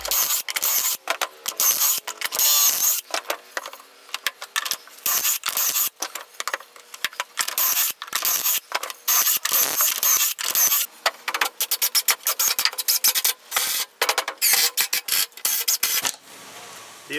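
A homemade track-saw rig cuts through 3/8 plywood for a workbench shelf, a harsh continuous rasping whine broken by brief gaps, close and loud throughout.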